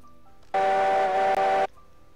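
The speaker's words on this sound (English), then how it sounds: "I can hear a whistle." A steam locomotive whistle in the train-operations game Railroads Online blows one steady, loud, harmonically rich tone lasting about a second, with a brief dip near its end, over quiet background.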